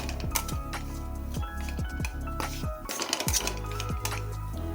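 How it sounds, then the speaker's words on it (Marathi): Bajra flour roasting in a pan over a low gas flame, with repeated close scraping and clinking strokes of a utensil against the metal pan in a steady rhythm, no talking. "मंद गॅसवर आपण हे बाजरीचं पीठ भाजून घेऊया"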